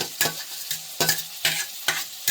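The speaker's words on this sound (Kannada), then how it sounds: "ಎಣ್ಣೆಲೆ ಚೆನ್ನಾಗಿ ಫ್ರೈ ಮಾಡ್ಕೊತೀನಿ" Vegetables being stir-fried in oil for a poha breakfast, with a soft sizzle broken by regular scraping strokes of a spatula about twice a second, close and clear with no talking.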